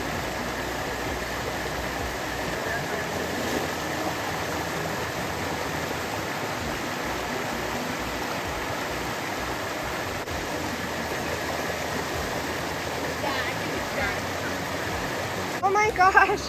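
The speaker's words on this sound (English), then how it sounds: "we came up to Inglis Falls itself." Steady broadband rush of Inglis Falls, a river waterfall on a hiking trail, continuous and moderately loud across the whole stretch, with a brief knock and rustle near the end.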